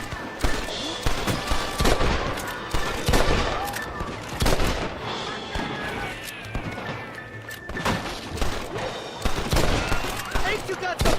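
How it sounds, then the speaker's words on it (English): Enemies in Red Dead Redemption shooting down from above, with bursts of sharp gunshots and thuds scattered across a noisy firefight, loud and close, with shouting voices mixed in. "They're shooting down on us!"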